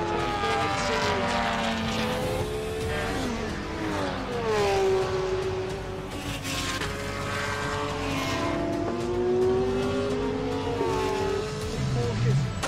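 A pack of endurance race cars, including Porsches, pulls away at the start of a Hankook 24H Series race: several engines rev and shift at once, and their overlapping tones rise and fall loudly and continuously.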